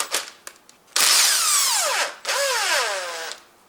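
Power tool spinning a 10 mm socket to remove a nut on a 2006–2015 Honda Civic: two close whirring bursts of a second or so each with pitch sweeping as it slows, after a few small clicks.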